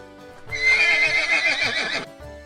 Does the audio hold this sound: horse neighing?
yes